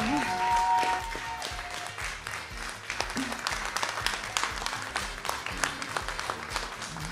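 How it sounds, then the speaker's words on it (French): Audience at a charity opening ceremony applauds after a faint musical tone fades, scattered clapping building into steady applause for several seconds. "Applaudissements pour Helmut."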